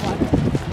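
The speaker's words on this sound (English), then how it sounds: "It's really windy out here." Strong wind buffets an outdoor microphone in a continuous low roar, with a few louder gusts.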